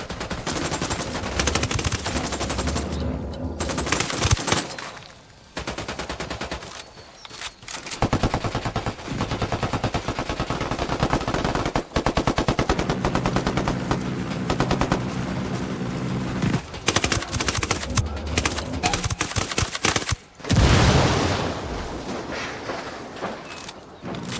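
Machine gun fire in the video game Ghost Recon, long loud sustained bursts of rapid automatic shots with short pauses between them, dense and close throughout the stretch.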